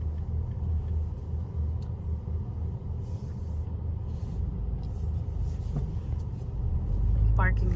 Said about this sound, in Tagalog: Gamit namin kotse.